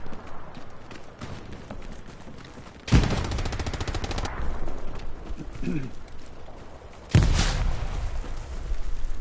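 Gunfire from a tank and infantry in the World War II video game Hell Let Loose, loud bursts breaking in twice over a steady battlefield din, with voices talking over the action.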